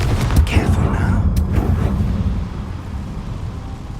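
A Confringo blasting spell erupts in the Hogwarts Legacy video game as a loud, low rumbling boom with crackling bursts, then settles into a steady dull roar.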